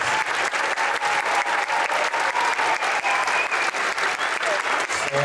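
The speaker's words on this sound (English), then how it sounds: "let's give your kids one big round of applause" Parents give a steady, dense round of applause at an elementary school concert. The clapping is close and continuous for the full five seconds.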